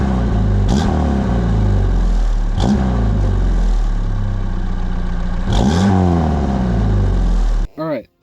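A 1986 Pontiac Fiero engine idles close by and is blipped three times in sharp revving bursts, each rising and falling back to idle, before the sound cuts off abruptly.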